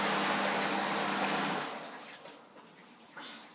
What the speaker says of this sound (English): we got a noisy shower. It shakes the floor actually, that's how noisy it is